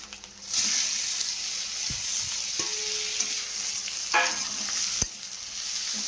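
Prawns sizzle steadily in a hot pan with browned onion and garlic, a continuous loud frying hiss broken by a few stirring scrapes and clinks.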